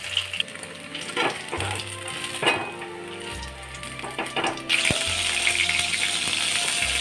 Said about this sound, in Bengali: সয়াবিনগুলোকে এইভাবে হাই ফ্লেমে ভেজে নিতে হবে